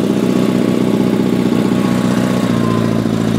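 A Sears SS16 snowmobile engine runs steadily after a cold winter start, a loud, continuous mid-to-low droning hum with a slightly pulsing idle character and no speech.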